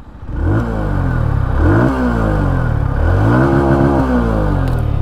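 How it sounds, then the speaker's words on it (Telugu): A 2025 TVS Star City+ commuter motorcycle idles close by, then revs several times, its exhaust note rising and falling in steady, loud bursts with no talking. "ఒకసారి ఎగ్జాస్ట్ సౌండ్ అయితే వినండి"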